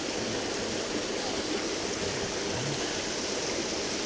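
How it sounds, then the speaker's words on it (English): Water pours down a waterfall in a steady, dense rushing roar, close and unbroken throughout, with no voices over it. "This is the last waterfall, I think."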